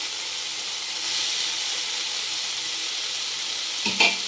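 Fried onion goes into a hot pan on an iron tawa, along with fried okra, for bhindi sabji. A steady, close, hissing sizzle runs throughout and ends with a brief clatter near the end. No voices are heard.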